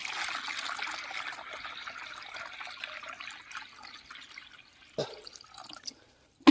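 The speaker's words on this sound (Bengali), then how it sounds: "এখন আমি ট্যাঙ্কি ফুল করে নেব জলে।" Water pouring into a sprayer tank in a farm field, a steady close trickle and splash that thins out, then a few separate drips and sloshes near the end.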